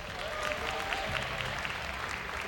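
Steady applause from an esports event crowd, a continuous wash of clapping hands that holds at an even level throughout.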